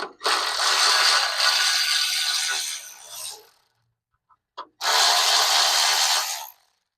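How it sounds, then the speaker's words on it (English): Hand ratchet spinning in two long, loud bursts of rapid clicking with a short pause and a couple of faint clicks between, tightening bolts on a BBM mini bull bar with light mount on a 2021+ Ford Bronco modular bumper. "I did get my handy ratchet out today"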